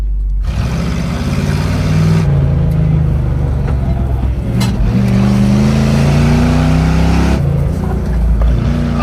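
Monster wagon car driven hard around a track and sliding, a loud, close engine roar rising and falling with throttle, with a steady pitch climb through the middle of the run.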